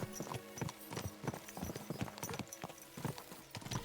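Horse hooves clip-clop steadily in Kingdom Come Deliverance 2, a rhythmic trotting beat of firm thuds repeating evenly, close and clear with no talk over it.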